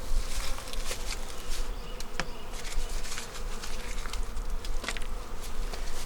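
Honeybees swarm around an open hive during the last beekeeping inspection of the season, a dense, close, continuous buzzing that swells and dips slightly, with no voices.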